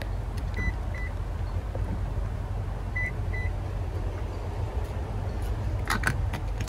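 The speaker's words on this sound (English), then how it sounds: "The car will beep at you if you move the seats, and it will continuously beep if you put the seats in a bad position." A 2020 Toyota Sequoia Platinum beeps while its power-folding rear seats move, two pairs of short electronic beeps over a steady motor hum, followed by clicks and clunks near the end.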